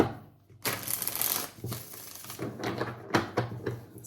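Tarot cards shuffled by hand in a series of papery riffles and soft slaps, fairly close and moderately loud, with no talking.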